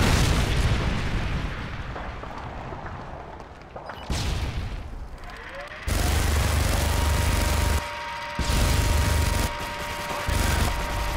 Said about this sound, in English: Predator missile incoming.